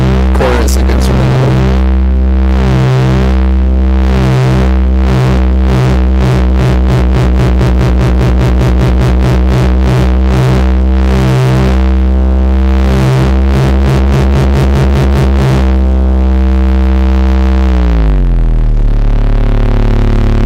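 Moffenzeef Stargazer synth drones loudly as its second oscillator is turned up, with a dense buzzing, distorted tone pulsing and stuttering rhythmically before sliding down in pitch near the end, no voices.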